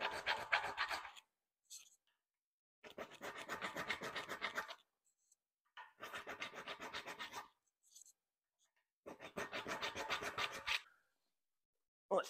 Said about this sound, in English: we're just gonna file a groove for the cotter pin